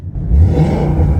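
A Ford Mustang GT 5.0 V8 engine revs up loudly and holds a deep, throaty roar, with a voice talking briefly over it.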